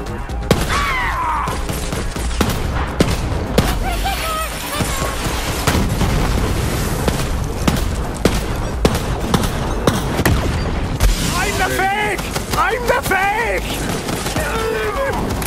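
Dense, continuous Borderlands 3 combat: rapid shotgun fire and booming explosions pile up over a loud, busy mix, with sharp bursts throughout.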